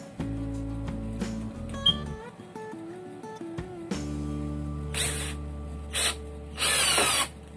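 A Mitsushi cordless drill drives a self-drilling screw with no pilot hole, its motor whining steadily close by for several seconds, then slowing and straining as the screw bites, with sharper bursts of grinding near the end.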